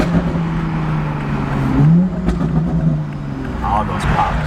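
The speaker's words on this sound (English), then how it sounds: "All those pops." A Toyota Supra with a newly installed downpipe rumbles and revs up close, its exhaust crackling with pops and bangs as the engine note rises and falls, with voices talking over it.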